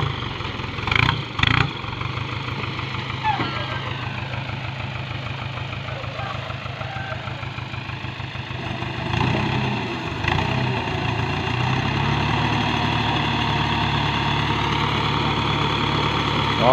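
Dump truck, an Isuzu NPR 115 with its original engine, idling nearby with a steady low chugging rumble and a slight rise in revs partway through; a couple of brief knocks sound early on.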